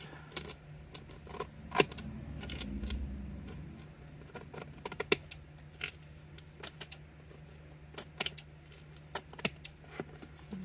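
A handmade pen book being carefully trimmed, heard as sparse, irregular snips and crisp clicks close by over a faint low hum, with no talking.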